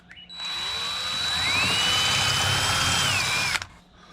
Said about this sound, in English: I'm going to finish drilling that hole out to a 1/8 drill bit, to a 1/8 hole